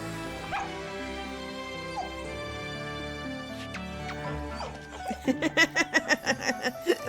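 A puppy in the hidden-object game Witch's Pranks: Frog's Fortune whimpers softly over light music, then breaks into a rapid, rhythmic run of high, close yips and barks.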